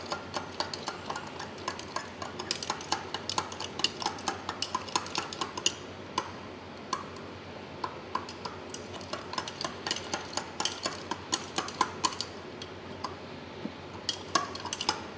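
Microbiological media with agar is stirred in a pot on the stove, with quiet, rapid clinks and taps of a utensil against the pot running steadily throughout.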